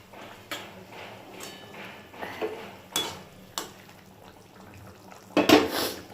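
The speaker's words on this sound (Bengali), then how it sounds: "ঝোল ফুটে এসেছে, এবার মাছগুলো আমি দিয়ে দেব।" Fish pieces going into a pot of boiling curry, with scattered clinks of a utensil against the pot and a louder splashing clatter near the end, close by.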